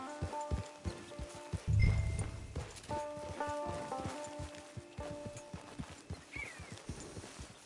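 Rhythmic clip-clop of video game horse hooves walking steadily, with tonal background music and occasional chimes layered over the hoofbeats.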